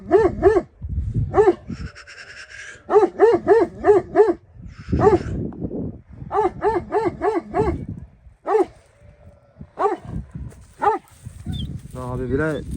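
A Kangal dog barks in repeated, rhythmic bursts of loud, deep barks with short pauses between volleys. People talk nearby between and over the barking.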